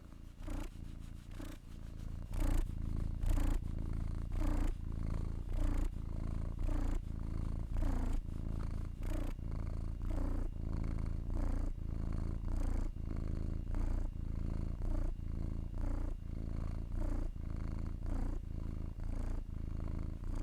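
A cat purrs close up in a steady, rhythmic rumble that runs unbroken for about twenty seconds, with no talking over it.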